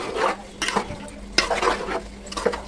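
Chicken curry stirred in a pot for chicken biryani, a spoon scraping through the thick mixture in three broad strokes over a soft sizzle, close and moderately loud with no talking.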